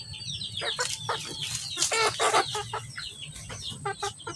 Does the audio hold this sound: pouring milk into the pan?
no